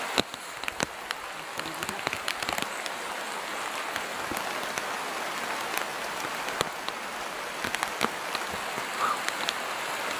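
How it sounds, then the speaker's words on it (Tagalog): Heavy rain pours steadily on a mountainside, a dense continuous hiss with scattered sharper drops pattering close by, loud and unbroken for the whole stretch with no talking. "Lakas na ng ulan."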